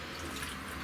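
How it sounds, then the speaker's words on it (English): Water drains steadily through the plumbing of a tiny house after a section fills and empties toward the sinks, making a faint, continuous trickling hiss with no voices. "You guys heard that little water pissing down"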